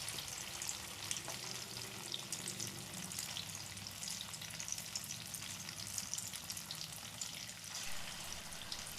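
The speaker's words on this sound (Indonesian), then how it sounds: "Ya, terus goreng sampai habis." Tofu and beluntas leaf fritters frying in hot oil, a steady dense sizzle and crackle that continues throughout with no voices.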